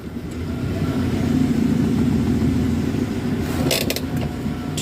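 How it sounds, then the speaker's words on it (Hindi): A Chevrolet Beat car suffering from low pickup hums with a steady, close mid-pitched engine drone as the clutch is released to pull away, with a few faint clicks near the end. "ये मैं क्लच छोड़ रहा हूँ गाड़ी मूवमेंट के लिए"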